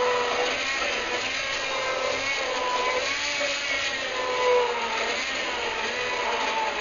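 Cooked vegetables with leftover asparagus being blended into a side dish, a steady whirring motor drone running without pause throughout, fairly loud and close.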